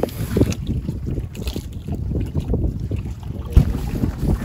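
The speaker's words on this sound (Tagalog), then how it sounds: "Hinihintay lang namin humina yung hangin. Medyo malakas pa." Strong wind roars in steady low gusts on the coast at San Vicente, Palawan, a continuous buffeting rumble with a brief louder thump near the end; no one speaks.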